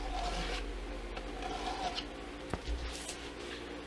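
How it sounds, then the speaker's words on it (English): A pen pressed against a running belt sander gives a soft, steady abrasive rasp, with a brief louder scrape partway through. "I'm sanding the pen on my belt sander."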